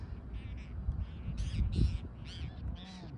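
Several crows caw in short bursts over a steady low rumble of water or wind at the Ten Mile River in Mendocino County, the calls spaced apart and moderately close.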